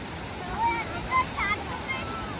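Flowing water near the Edupayala Durgamma temple makes a constant broad rushing wash, with faint voices talking briefly over it.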